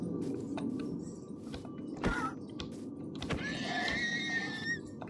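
Minecraft horse neighs with a rising whinny, heard over soft game ambience and scattered clicks near the end of the clip.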